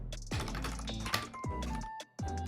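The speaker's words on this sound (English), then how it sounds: "Can you hear my very aggressive typing?" Rapid, heavy keystrokes clatter on a keyboard, dense and close, with a short pause near the end before the typing resumes.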